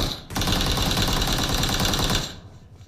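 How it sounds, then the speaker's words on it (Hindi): Rapid automatic gunfire from BGMI, a mobile battle royale shooter, sounds as a dense, continuous burst of shots that lasts about two seconds and then cuts off, with no talking over it. "गोलियां चलेंगे"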